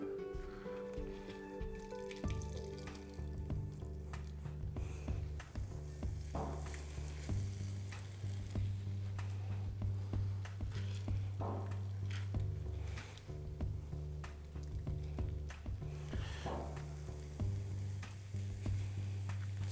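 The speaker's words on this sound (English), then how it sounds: "You want to hear that sizzle when you put it in, because you want to get it going right away." Grated potato pancake mixture, squeezed of excess water, sizzles steadily in a hot frying pan, a close, continuous crackle with small bursts and occasional scraping and stirring over it, no talking.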